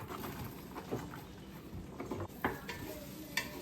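Half of a whole chopped onion going into melted butter in a soup pot, giving a steady soft sizzle with a few light clinks and stirring taps, fairly quiet and with no talking.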